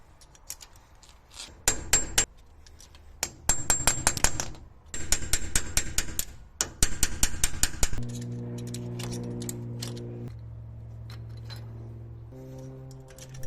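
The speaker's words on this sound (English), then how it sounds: "I can bend this tab on this locking washer so I can remove the outer spindle nut" Metal tapping on a brake axle locking washer's tab: bursts of rapid, bright clinking strikes come close and loud, each lasting about a second, then a lower humming tone follows.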